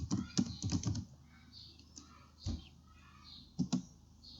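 Typing on a computer keyboard during a mapping software session, with a quick burst of clustered key clicks at the start, then scattered single keystrokes and a few taps near the end, close and fairly quiet.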